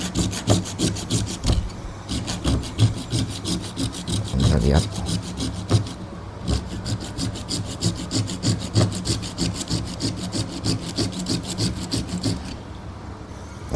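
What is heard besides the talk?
OLFA 213B craft saw cutting a plastic pen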